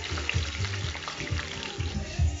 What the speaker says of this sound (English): it seems like the oil is ready, and in goes the diced potatoes